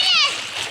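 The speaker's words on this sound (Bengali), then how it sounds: "এই যে আমার বাবু সাঁতার কাটে" A small child splashes while swimming, with a short burst of water splatter at the start fading to softer sloshing, close and fairly loud, under a voice.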